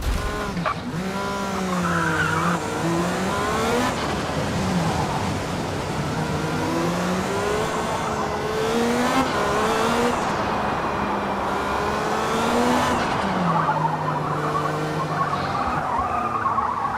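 Car tires squealing through turns in Space Engineers, long wavering screeches that rise and fall over a continuous engine drone, loud and close throughout the whole stretch.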